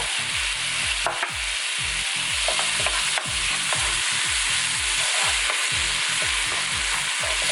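Garlic and tomato sautéing in an oiled pan for arroz con pollo, giving a steady loud sizzle broken by regular scraping strokes of stirring that continue without pause.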